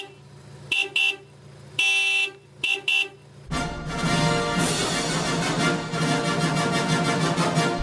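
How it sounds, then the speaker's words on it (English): A Honda car horn honks in several short toy-like beeps of varying length, followed by a busy, loud stretch of dense tonal honking that continues to the end. "have a listen to this Honda's horn"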